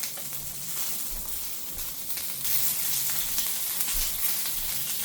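A steak sizzles and fries in a hot pan, a dense, steady crackling hiss close by that swells a little louder halfway through, with no talking.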